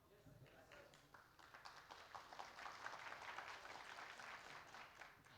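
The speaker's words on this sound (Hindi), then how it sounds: "ये जो आप लोग ताली मारा ना," Audience at a cultural program in Bangalore clapping, a dense wash of applause swelling and holding steady, faint and slightly distant, with a voice speaking at the start.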